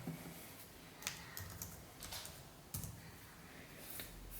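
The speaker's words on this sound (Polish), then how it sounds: "Teraz sprawdzimy działanie klawiatury." Laptop keyboard keys tapped in short irregular bursts, quiet and close, with no voices over the clicking; a laptop bought as a mystery-box auction lot.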